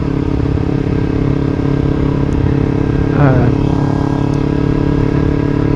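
Steady engine drone of a 2012 Kawasaki Ninja 250 motorcycle on the highway, continuous and loud with wind noise, and a brief rise in pitch about midway like a gear change or throttle shift.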